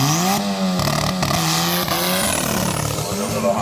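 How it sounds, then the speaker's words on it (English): Integra with a Caliber SRT4 engine at a drag racing event, engine revving and pitching up and down up close, loud, with a person talking over it. "this Integra has a caliber SRT4 motor in it"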